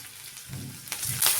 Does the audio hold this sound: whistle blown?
no